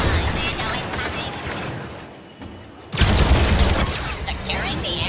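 Sentry guns in the Star Wars Battlefront 2 multiplayer beta fire dense rapid volleys of blaster shots, loud and close. The firing thins out briefly and then surges back, with game voices speaking over it.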